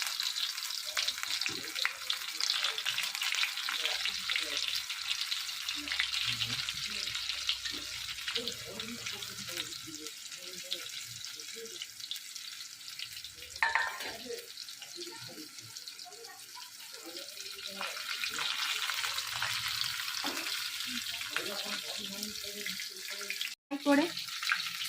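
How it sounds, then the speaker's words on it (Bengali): Prawns deep-frying in oil until golden give off a loud, continuous bubbling sizzle throughout, with occasional utensil clinks and brief murmurs of voice underneath. "এই চিংড়ি মাছগুলো গোল্ডেন ডিপ ফ্রাই করে ভেজে নেব।"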